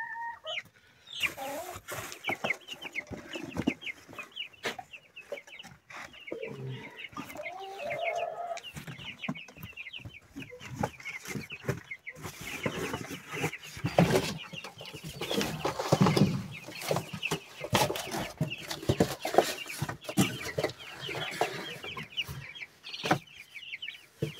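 Young broiler chicks being let inside peep and cheep continuously in high, busy chirps, with some rustling and handling noises mixed in at close range.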